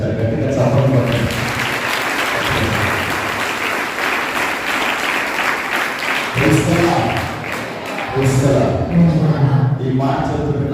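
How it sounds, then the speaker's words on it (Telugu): A church congregation at Holy Mass at RCM Church, Proddatur, clapping loudly in a broad, sustained roar of hands that swells and eases, with voices carrying over the applause at points. "గట్టిగా చప్పట్లు కొట్టండి"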